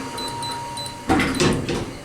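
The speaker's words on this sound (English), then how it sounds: "Doors closing." A soft beeping pattern, then hydraulic Stannah lift doors slide shut with a rumbling mechanical rush and a dull thud, in a car park at Gatwick Airport North Terminal.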